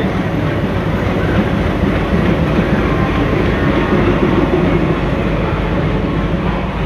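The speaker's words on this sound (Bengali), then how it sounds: "কালকা মেল ঢুকছে হাওড়ায় অ্যালকো লোকোমোটিভ দিয়ে" The Kalka Mail pulls into Howrah behind an ALCO locomotive, a steady, loud rolling rumble of rail wheels and carriages that continues without a break and with no voices.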